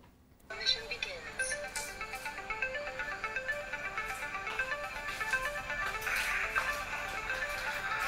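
A mobile phone rings with a repeating melodic ringtone that starts abruptly and loops steadily, while people talk over it.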